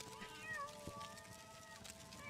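A kitten in Morrowind meows in a few short, rising calls that sit over a steady game backdrop of music and ambience, with no talk.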